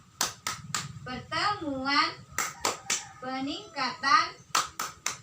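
Rhythmic group hand clapping in a call-and-response clapping game, crisp bursts of claps in short patterned sets alternating with a woman's and children's voices speaking and chanting between them.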